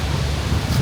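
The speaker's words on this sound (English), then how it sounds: "it's kind of windy. It's very, very windy." Strong autumn wind blowing outdoors, a steady broadband rush with low buffeting gusts against the microphone, loudest near the end of the brief stretch.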